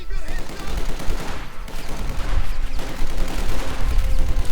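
A Maxim machine gun rattles in rapid bursts amid dense battlefield gunfire and rumbling explosions in Company of Heroes 2, loud and continuous throughout.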